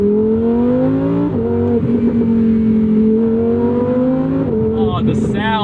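2024 Lamborghini Huracan Sterrato with a naturally aspirated V10 revving toward redline: a loud, continuous engine note climbing in pitch through repeated pulls, broken by brief dips between gears.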